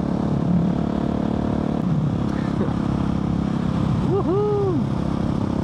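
A Husqvarna 701 single-cylinder four-stroke motorcycle fitted with an Arrow exhaust runs at a steady loud drone while riding, with brief throttle swells and a rider's excited shout near the end.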